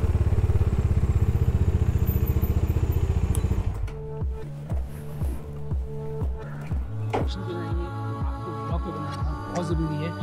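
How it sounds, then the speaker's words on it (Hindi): Motorcycle engine running as the bike is parked at a hotel near Manali in snowy conditions, a steady loud drone that then drops to a lumpy, rhythmic idle with clattering pulses; a voice talks over it. "तो यहाँ लगाएंगे हम अपनी बाइक।"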